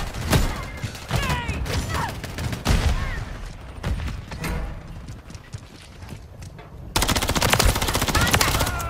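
Rapid automatic gunfire in the video game Modern Warfare 3 keeps up in dense bursts of sharp cracks throughout, growing louder toward the end, with game voice chatter mixed in.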